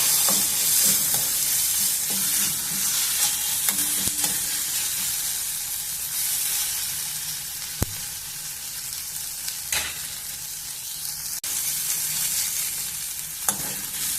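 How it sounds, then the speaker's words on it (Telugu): Tomatoes with turmeric and ginger-garlic paste fry in a pan with a steady, close sizzle, broken by occasional scraping stirs. "కొద్దిగా పసుపు కొద్దిగా అల్లం వెల్లుల్లి పేస్ట్ వేసి కొంచెం అల్లం పచ్చి వాసన పోయేంత వరకు మగ్గనిద్దాము"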